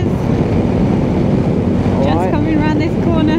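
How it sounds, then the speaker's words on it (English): Strong wind rushes continuously over a motorcycle's microphone while riding in the Swiss Alps near Grindelwald in winter, a loud roaring buffet with the engine note rising and whining near the end. "Oh, it's getting windy too."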